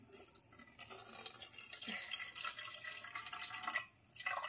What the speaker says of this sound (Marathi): हे पाणी आता ओतून काढते मी याच्यावरच.